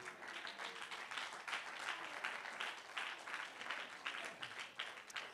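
A church congregation claps hands steadily through a sermon, a dense, even patter of many palms that stays fairly soft and distant for the whole stretch, with no voices standing out.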